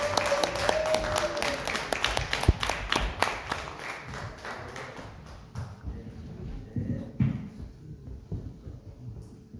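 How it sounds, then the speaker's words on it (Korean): Audience applause at an academic symposium on the Naju Donghak Peasant Revolution welcomes a speaker to the podium: dense rhythmic clapping that is loud at first, then thins into scattered claps, with a brief voice near the start. "박수로 환영해 주시기 바라겠습니다."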